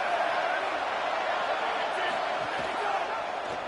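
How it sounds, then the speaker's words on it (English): Home crowd at an Oklahoma vs Florida football game, a steady broad roar filling the stadium throughout, with commentary voices over it. "this home crowd getting involved right from the start"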